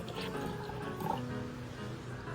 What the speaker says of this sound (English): fill the jar with water at the designated temperature